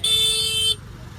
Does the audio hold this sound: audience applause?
no